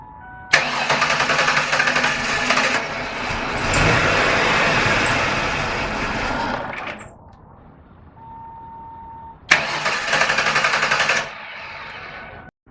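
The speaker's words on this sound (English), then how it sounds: "now we're going to crank the car" A Ford Taurus engine with a cylinder 3 misfire cranks loudly for several seconds after fuel pressure is relieved, catches briefly, dies, then cranks again in a second burst; no voices.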